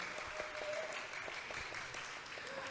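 Audience applause at a Korean celebration service, with steady scattered clapping from a modest crowd, faint and held at a distance throughout.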